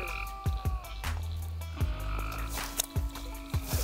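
Frogs croak in a Kentucky creek, a run of sharp, clicking croaks repeating irregularly at close range, loud and without talk over them.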